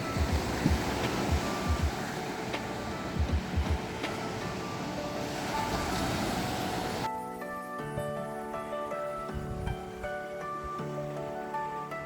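Ocean waves wash onto Shiroda beach in front of a seaside resort near Vengurla, a steady broadband surf roar with wind, loud and continuous, shifting to a calmer tone midway.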